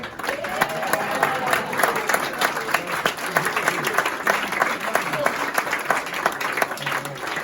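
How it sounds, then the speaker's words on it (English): An audience applauds a chef at a formal Burns supper aboard the Royal Yacht Britannia, with dense, steady clapping from a large crowd running loud throughout. "let's do a special round of applause for the chef"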